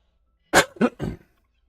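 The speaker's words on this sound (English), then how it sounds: "Sorry about the coughing." A short burst of three rough coughs or throat clears from a nearby man with a seasonal cold, spaced closely over about a second with no talking around them.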